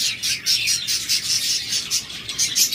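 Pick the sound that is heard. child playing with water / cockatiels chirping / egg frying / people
cockatiels chirping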